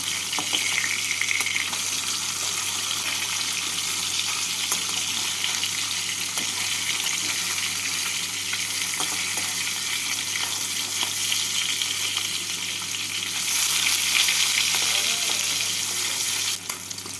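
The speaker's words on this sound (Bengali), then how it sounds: "তেলটাকে গরম করে নিয়ে মাছগুলোকে উল্টে পাল্টে হালকা করে ভেজে তুলে নেব" Fish fry in hot mustard oil with a loud, steady sizzle that continues throughout, no voices.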